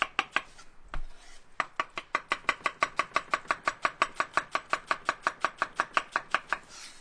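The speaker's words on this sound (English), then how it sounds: "So I'm just going to chop this in half" A knife chops through lettuce on a cutting board, starting with a few uneven cuts and then a fast, even run of about thirty crisp, close-up strokes.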